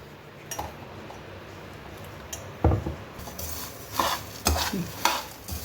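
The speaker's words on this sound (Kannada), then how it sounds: "ಈ ಥರ ಶಬ್ದ ಬರಬೇಕು ಆವಾಗ ಅಡಿಕೆ ಚೆನ್ನಾಗಿ ತುಪ್ಪದಾಗ ಹುರಿದಿದೆ" Areca nuts roasting in ghee over a low flame and stirred with a metal utensil, giving a soft steady sizzle broken by several sharp scraping clinks against the pan, close and fairly loud.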